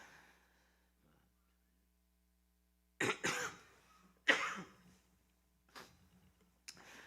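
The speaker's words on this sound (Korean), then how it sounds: "말을 많이 하니까 기침이 나요." Coughing and throat clearing from a preacher during a church sermon, several short harsh bursts spread across a quiet room with a faint low hum underneath.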